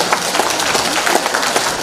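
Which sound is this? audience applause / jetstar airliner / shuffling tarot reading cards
audience applause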